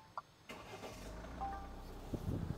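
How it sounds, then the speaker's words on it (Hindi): A 2024 Tata Safari engine cranks and turns over, then settles into a low running rumble after a quiet start with a faint click. "इसको स्टार्ट कर लेते हैं गाड़ी को एक बार"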